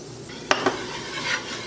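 Two quick scrapes of a utensil stirring a quarter cup of flour into sizzling butter for a macaroni and cheese sauce, with a steady soft sizzle underneath; no voices.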